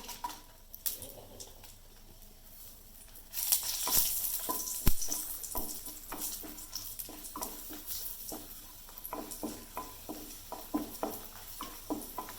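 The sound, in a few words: dried red chilies frying in oil in a pan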